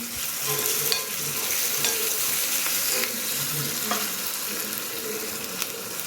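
Chicken curry cooks in a pan with salt and turmeric being stirred in, a steady close sizzle with occasional scraping strokes and clinks throughout, no voices.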